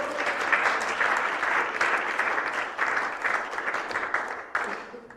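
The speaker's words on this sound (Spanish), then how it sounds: "Denle fuerte ese aplauso al Señor" A church congregation claps loudly and continuously during a sermon. The applause swells and eases in waves, with faint crowd murmur beneath and a brief dip near the end.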